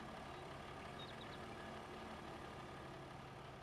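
A tractor fitted with a leveling blade idles in Farming Simulator 22 on PS5, a steady, quiet low rumble that runs unchanged and alone throughout.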